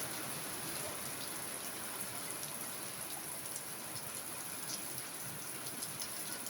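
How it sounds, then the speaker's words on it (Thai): Off-season rain falls at night in January, the first rain of the year. It makes a steady, soft hiss of drops on surfaces, faint and unbroken, with no voices. "ฝนตก แล้วครับ"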